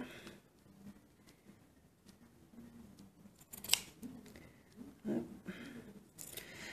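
Scissors snip through the bottom of a wipe with a few crisp, close cuts spread over a quiet background with faint handling rustle.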